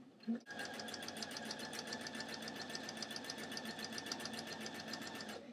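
A sewing machine stitches stretch T-shirt material in one continuous run, a fast, even, rapid-fire clatter close to the microphone with no talking.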